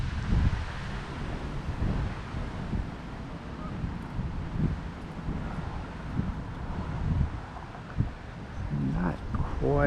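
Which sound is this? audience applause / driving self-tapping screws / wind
wind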